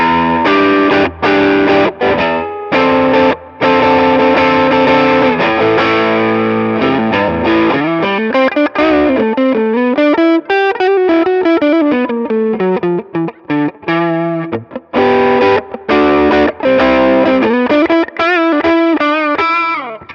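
Heavily distorted electric guitar plays loud riffs and sustained, bending notes through a Valeton GP-50 amp modeler, with sharp pick attacks and brief gaps between phrases.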